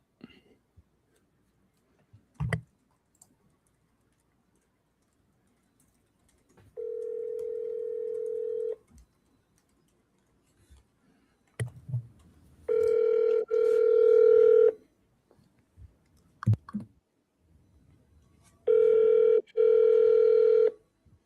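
An outgoing telephone call rings back with a steady electronic tone repeating in long evenly spaced bursts, clear and close, separated by silence with faint clicks and soft handling noises.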